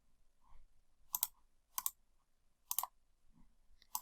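Computer mouse clicks sound off sharply four times at irregular intervals, close and crisp against a quiet room, with no talking.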